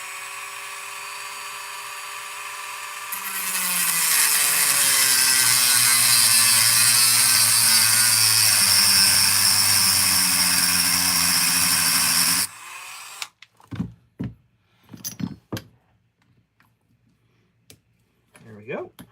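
A power cutting tool grinds slots into stuck screw heads in a loud, steady high-pitched whine lasting about nine seconds, then stops abruptly, followed by scattered short clanks and handling noises.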